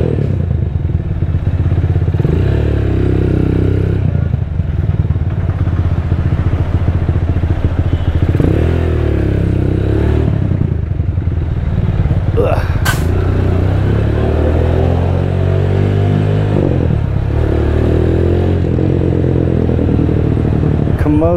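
A Diablo motorcycle fitted with an Orion muffler, its engine droning steadily up close while riding, with repeated revs and gear changes and some clatter and thumps from the road.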